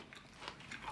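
Someone chews lemon garlic chicken up close, with soft, quiet wet bites and mouth sounds spread unevenly across a brief moment.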